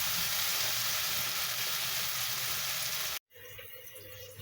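Ground chili paste sizzles loudly and steadily in hot oil with softened onions, cooking the sambal base for a split mackerel scad dish; the hiss breaks off sharply near the end, then resumes more quietly.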